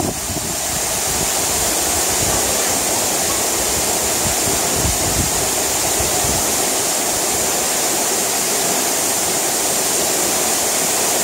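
Serrado waterfall in Porteirinha, Minas Gerais, a constant loud rush of falling water, close and unbroken for the whole stretch.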